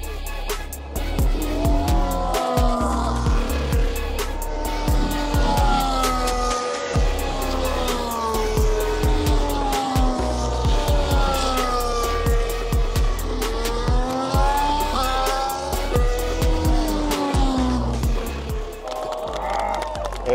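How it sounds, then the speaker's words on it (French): Formula 1 cars scream past on a warm-up lap, high-pitched engine whines rising and falling continuously throughout, loud and close over a steady roar of background noise. "Dans quelques minutes on va voir les Formule 1 passer."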